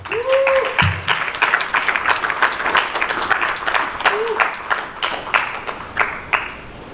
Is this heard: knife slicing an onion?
no